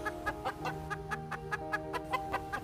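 Chickens cluck in a rapid, regular alarm rhythm after spotting skunks, repeated sharp calls over a steady background of softer flock murmuring.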